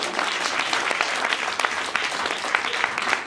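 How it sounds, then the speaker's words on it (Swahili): A church congregation claps in a steady, dense burst of applause throughout, loud and close, filling the hall without pause. "Piga makofi yenye afya."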